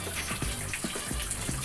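Tap water pouring into a laundry tub, a steady splashing gush with small irregular plops and gurgles, close and moderately loud, no voices.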